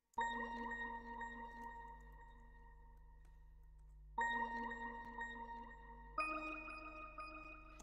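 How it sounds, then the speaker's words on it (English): An Evolving Keys synth preset called Pilot from Analog Lab plays sustained chords over a low droning bass, all alone with no voices. It starts, holds a chord, then drops out briefly before two more chords re-enter, the last one louder. "I went with the Pilot preset, which is a Evolving Keys preset"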